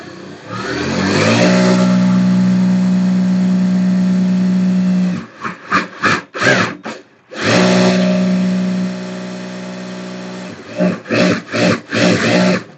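A Daisen DS R1 sewing machine winds thread onto its bobbin, a loud steady motor whir running for several seconds, then short stop-start bursts, then another sustained run followed by more quick bursts, close up with no talking.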